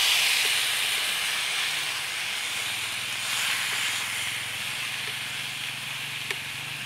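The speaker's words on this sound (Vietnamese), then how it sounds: "mình sẽ bỏ cá vô để mình xào" Fish sizzling as it is stir-fried in a pan with lemongrass while cooking Chau Doc fish noodle soup: a steady, loud hiss and crackle that holds evenly throughout, with no talking.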